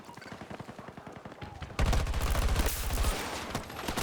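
Gunfire crackles in Battlefield 2042, starting with scattered shots, then a louder, dense automatic burst that rattles on for a couple of seconds before easing off.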